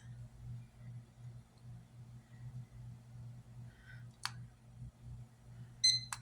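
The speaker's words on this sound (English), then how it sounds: "the only thing I am getting ready to do is just get the timer ready" A kitchen timer being set for pressure canning gives a faint click and then a short cluster of high electronic beeps near the end, all over a steady low hum.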